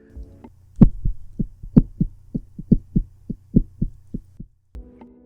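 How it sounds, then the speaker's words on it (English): A steady heartbeat sound effect thumps in a regular rhythm of paired beats over a low hum, loud and close, with no talk. "I felt my heartbeat in my throat."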